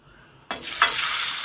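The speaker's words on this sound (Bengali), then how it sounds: "এবার ওই তেলেতেই দিয়ে দিচ্ছি 3টে তেজপাতা আর গোটা জিরে 1/2 চামচ। ফোড়নটাকে সুন্দর করে একটু লাল করে ভেজে নেব।" Three bay leaves and half a spoon of whole cumin seeds hit hot frying oil for a fish curry, bursting into a sudden loud hissing sizzle that swells further and stays steady, close and alone.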